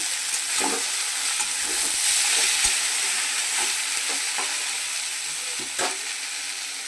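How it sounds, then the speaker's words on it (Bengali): Spinach with other vegetables sizzles steadily in a hot pan, the continuous frying hiss broken by scattered scrapes and knocks of stirring. "পালং শাক সবজিটা আমার ভাজা হয়ে গেছে"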